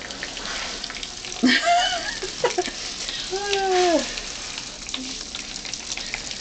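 Dry ice bubbling and fizzing in toilet water, a close watery hiss with gurgling, boiling bursts that rise and fade over a few seconds.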